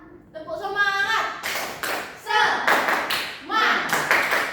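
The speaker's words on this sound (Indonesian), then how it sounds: "Ada yang tahu nggak tepuk semangat? Tidak. Oke, aku kasih contoh ya. Tepuk semangat." Schoolchildren in a classroom clap the tepuk semangat routine in short rhythmic bursts of hand claps and taps, separated by gaps, with a group chant mixed in between the claps.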